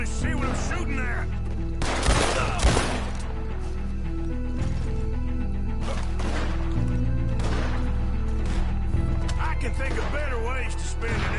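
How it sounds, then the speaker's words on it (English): Gunfire in Red Dead Redemption 2 crackles through a steady, dense game soundscape, with a couple of louder bursts of shots early on and scattered reports later, while voices talk over the action. "I can hardly see what I'm shooting at"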